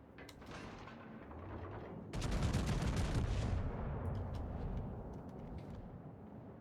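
Main-battery salvo from the Tier 5 Pan American battleship Rio de Janeiro firing armour-piercing shells in World of Warships: a loud booming burst that swells suddenly, holds for a second or two, then rumbles and fades, with faint mechanical clatter around it.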